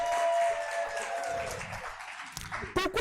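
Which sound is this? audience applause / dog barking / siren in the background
audience applause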